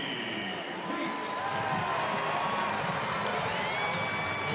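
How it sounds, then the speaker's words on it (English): Home crowd at a Milwaukee baseball game keeps up a steady, broad roar of cheering and chatter throughout, with scattered whistles and shouts rising above it and a broadcaster talking over the noise. "it's good to hear an encouraging home crowd"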